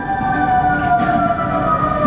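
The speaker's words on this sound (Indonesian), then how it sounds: "Apabila mendengar suara sirene darurat saat berada di lokasi proyek" A loud, steady emergency siren sounds alone at a high-speed rail construction project site, a sustained wailing tone with no talk over it.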